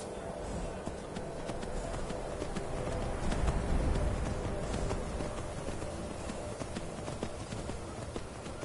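Steady clip-clop of horse hooves at a running pace in Skyrim, continuous and fairly busy, with a dense backdrop of game ambience.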